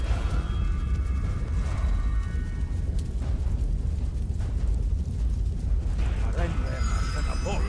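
Missiles exploding in the Neverwinter Nights 2 game, a dense run of booming bursts over a constant low rumble, with voices and game sounds mixed in toward the end.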